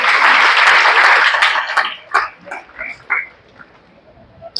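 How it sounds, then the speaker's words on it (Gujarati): A lecture audience bursts into loud, dense applause that lasts a couple of seconds, then breaks up into a few scattered claps that trail off into near silence. "તાળી પાડવા જેવી લાગે તો પાડી લેજો તમે"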